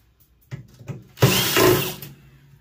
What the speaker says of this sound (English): we just want to take out all these safety screws here. Like this, all the way around the side